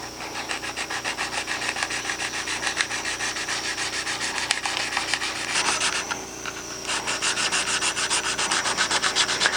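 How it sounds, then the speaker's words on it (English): Sandpaper is rubbed back and forth over a wheel rim surface to rough it up before gluing rim rubber, a steady rhythmic rasping of quick even strokes, close and loud with no voices. "just take the sandpaper like so."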